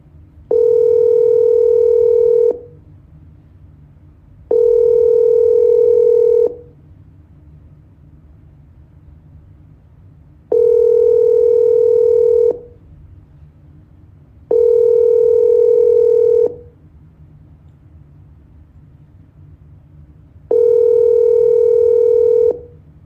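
Repeated telephone ringback tones while calling a home seller back: five steady two-second beeps separated by pauses, clear and close over a low background hum, with no talking.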